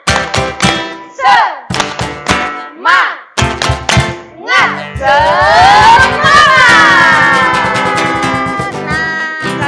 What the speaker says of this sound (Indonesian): biar lebih semangat lagi kita tepuk semangat dulu ya Kak ya